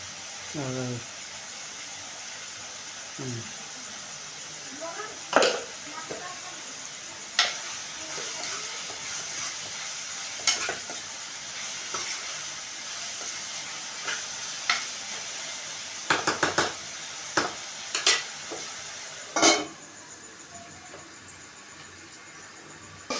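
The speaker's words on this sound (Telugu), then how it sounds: "సాల్ట్ వేసుకున్నాం ఉల్లిపాయతో కొంగుడు మగ్గుతాం" Onions fry in a pan with salt, giving a steady soft sizzle under scattered clinks and scrapes of stirring. A voice is heard briefly near the start.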